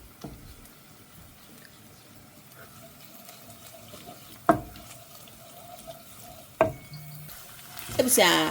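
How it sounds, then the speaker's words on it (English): Tomato puree stirred into diced onion frying in a pan, a soft continuous sizzle broken by a few sharp utensil knocks and scraping, with no voices. "we can add in some puree tomato"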